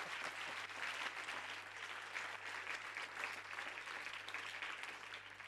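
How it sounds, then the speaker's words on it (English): Steady audience applause at a plenary session on the economics of prevention, a continuous wash of clapping from a crowd that holds evenly for several seconds over a faint low hum. "Give him a round of applause, folks."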